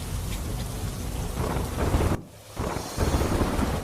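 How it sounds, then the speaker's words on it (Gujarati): Heavy downpour with thunder over the urban streets of Surendranagar and Wadhwan, a dense steady roar of rain broken by a deep rumbling thunder swell, a brief lull, then the pounding rain returning loud and close. "સુરેન્દ્રનગર અને વઢવાણ સહિતના શહેરી વિસ્તારોમાં ગાજવીજ સાથે ધોધમાર વરસાદ થયો"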